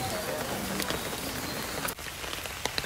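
Rain falls steadily outdoors as a dense, even patter with a few sharper drops and taps standing out; no voices.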